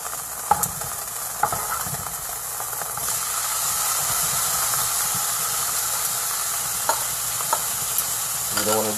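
Beef for stroganoff frying in a hot pan, a steady bright sizzle throughout, with a few sharp clinks and stirring knocks near the start and end.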